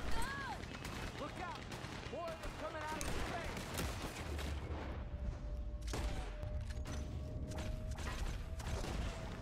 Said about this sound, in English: That's a proper Gatling gun.